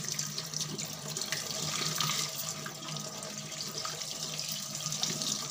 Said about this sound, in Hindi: मैं इसको गर्म पानी के साथ वॉश करूँगी